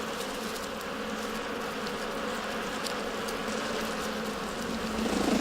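Bees hum inside a tree colony, a dense, continuous buzzing drone of many wings at moderate level, steady throughout and swelling a little at the very end, without speech.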